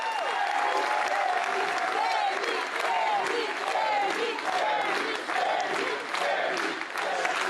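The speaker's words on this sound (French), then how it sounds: "Une foule enthousiaste applaudit" Enthusiastic crowd applauding at a Pan-African rally, sustained clapping with rhythmic surges, while a voice talks over it throughout.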